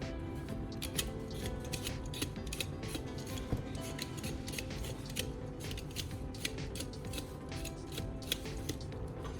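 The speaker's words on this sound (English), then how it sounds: "I'll use a utility knife to carefully carve the tip into a smooth, rounded shape" A utility knife carving the tip of a wooden stick into a smooth rounded shape: close, quiet, repeated short scraping and shaving strokes in an uneven rhythm, with no voices.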